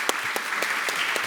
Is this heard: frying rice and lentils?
no